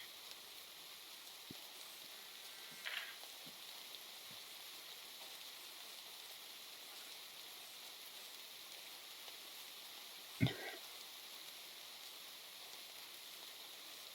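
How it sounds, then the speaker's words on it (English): Steady soft hiss of rain falling in Minecraft, continuous and even throughout, with a couple of faint clicks and one brief sharp knock partway through. "Minecraft Rain is real peaceful when I'm by my cozy little base"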